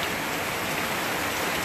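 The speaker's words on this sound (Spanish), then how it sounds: "Como pueden escuchar, está lloviendo fuertecito, pero no está haciendo viento" Heavy rain falls steadily during Hurricane Irma in western Puerto Rico, a dense, continuous wash of drops on surfaces with no wind gusts and no voices.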